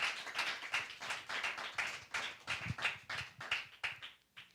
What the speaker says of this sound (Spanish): Give an applause to God.